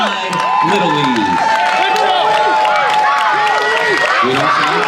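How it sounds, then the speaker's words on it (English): Outdoor parade crowd claps and cheers for a Little League all-star team, a continuous wash of applause and scattered whoops mixed with loud talking voices close by. "Let's give a big round of applause to the Santa Clara West Side Little League."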